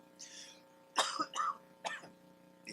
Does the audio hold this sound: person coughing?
yes